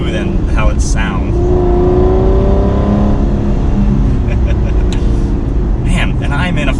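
An Aston Martin Rapide four-door luxury car with an automatic transmission accelerates, its engine note rising in pitch, loud and close, inside the cabin with talk over it.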